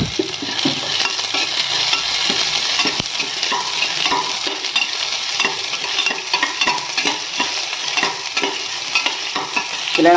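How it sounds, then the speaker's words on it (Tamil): Chopped small onions temper in hot oil for a home-grown mixed spinach curry, with a continuous bright sizzle throughout and repeated light scraping and tapping of a stirring spoon against the pan, close up and without talk. "கொஞ்சோண்டு சின்ன வெங்காயம் கட் பண்ணி தாளிச்சுக்கோங்க"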